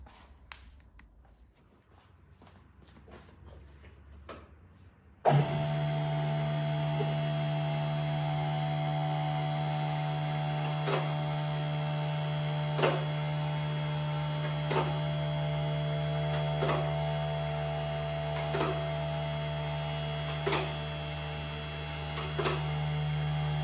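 A car lift raises a Classic Mini: a steady electric motor hum starts abruptly and continues, with faint, evenly spaced clicks ticking over it as the lift climbs.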